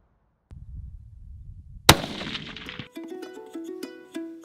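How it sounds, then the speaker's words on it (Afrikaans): A hunting rifle fires one sharp, loud shot at an antelope in the bush near the Botswana border, cracking out of quiet rumble before music begins. "Hy trek hy sneller en die skoot klap."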